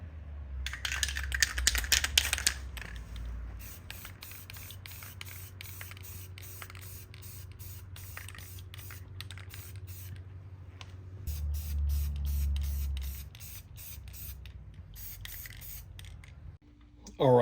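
Short hissing bursts of Krylon spray paint hit a 3D-printed Game of Thrones dragonglass prop early on, followed by quieter handling clicks, rubbing and a low background hum.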